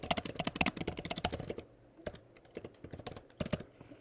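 Text is typed on a computer keyboard in quick clustered keystrokes, then a few slower isolated taps after a short pause, all close and fairly quiet.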